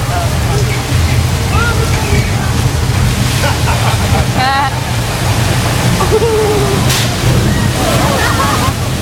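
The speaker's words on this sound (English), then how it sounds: "with this much rain, there is bound to be a flash flood" Water rushes and sloshes steadily through a staged flash flood set during heavy rain, a loud continuous wash with voices talking faintly underneath.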